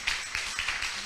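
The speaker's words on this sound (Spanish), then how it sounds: "quisiera pedirle un gran aplauso a las compañeras peruanas" Light hand clapping for a visiting women's university tuna group from Trujillo, Peru, at a Valparaíso city council session, soft and distant with a few distinct claps standing out.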